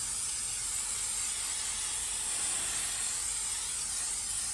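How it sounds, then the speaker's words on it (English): Cooking spray hisses steadily onto food in a pan for a large family dinner, a continuous close airy spray lasting several seconds without pause. "Now we'll go ahead and spray some of that spray on there."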